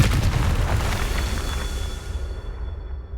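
A booming Confringo blasting-spell explosion in the Hogwarts Legacy video game, loud and close, with a heavy low rumble that slowly fades over a few seconds with no talk.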